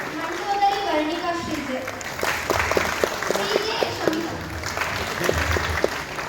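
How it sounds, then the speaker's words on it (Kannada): A theatre audience at Ravindra Kalakshetra applauds during a Kannada stage play of Prachanda Ravana, a broad wash of clapping with voices and crowd noise running underneath. "ಜೋರಾದ ಚಪ್ಪಾಳೆ"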